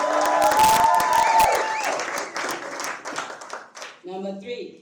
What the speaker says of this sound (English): Can we give Caitlin another round of applause?